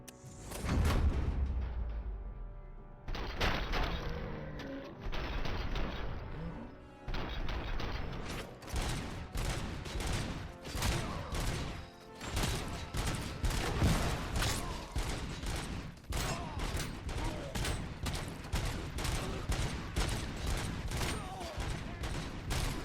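Rapid gunfire in Robocop: Rogue City, dense bursts of sharp shots and mechanical clatter repeating loudly and steadily through a long firefight, with brief pauses between volleys.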